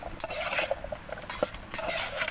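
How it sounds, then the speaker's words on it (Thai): A homestyle Thai mulberry salad is tossed and mixed in a bowl, quick clinking and scraping of utensils against the dish in close, busy rhythm. "คลุกเคล้าให้เข้ากัน"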